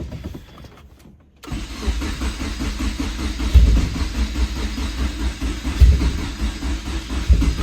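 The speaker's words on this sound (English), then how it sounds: "I got a feeling it's going to crank a few times." A Honda K24 engine cranks on a cold start, going from near quiet to loud, uneven turning over and rough revving with heavy low thumps, close by and with no talking.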